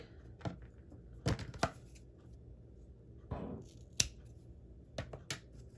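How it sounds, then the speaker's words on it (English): Scissors snipping craft material for a spring bunny project, a handful of short crisp cuts spaced irregularly in a quiet room, close and fairly soft. "I'm going to cut 2 inches for the other side"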